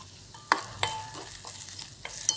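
Potato pieces and green chilies stir-fry in hot ghee in a pan, a steady close sizzle broken by several sharp scrapes and clacks of the spatula at uneven intervals.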